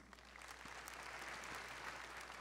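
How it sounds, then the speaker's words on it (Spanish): Church congregation clapping in praise, a soft, steady patter of many hands at a distance with a faint low hum underneath. "Le damos un aplauso, Señor"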